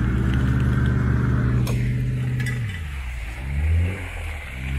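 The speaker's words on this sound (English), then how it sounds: "Start giving it some gas a little bit, Jackson." A car engine revs with a deep, loud rumble as the vehicle is pulled out by another, with the pitch falling and then rising again in a final surge.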